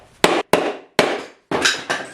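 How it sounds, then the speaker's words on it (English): A hammer striking the back of a GM 8L-45 automatic transmission housing: four sharp, heavy metallic blows, each ringing briefly before cutting off, close and loud with no voices. "I got a real hammer, so I'm going to hit it from the back and see what happens."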